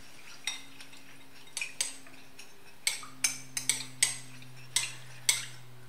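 A metal teaspoon stirs wasabi into lemon juice in a small dish, giving a dozen or so sharp, irregular clinks and taps against the dish over a faint steady hum.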